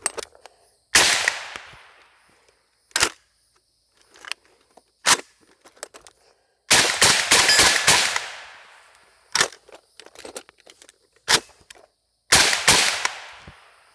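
Shots from a rifle fitted with a YHM Titanium Phantom suppressor, fired outdoors as sharp cracks, first singly and then in quick rapid strings with pauses, close and loud.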